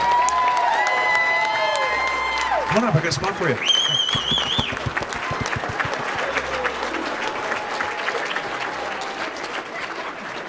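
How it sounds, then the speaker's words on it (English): Audience applause and cheering at a hypnotist stage show, loud sustained clapping under a voice calling someone up, with music tones and crowd noise throughout. "all this applause is for you"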